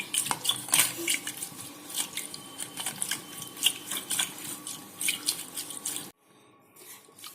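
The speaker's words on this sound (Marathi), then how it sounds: "सर्वप्रथम दही फेटून घ्यावे" Curd (yogurt) whisked in a bowl for dahi vada gives a steady run of quick, close clinks and scrapes of the whisk against the vessel, then stops abruptly near the end, leaving near silence.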